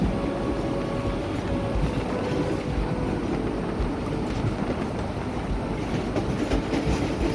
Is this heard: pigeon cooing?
no